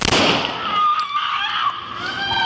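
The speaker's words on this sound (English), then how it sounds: "shots fired" Police officers fire gunshots at a man charging them with a knife, heard as a sharp, loud burst at the start that fades into ringing and a commotion of voices.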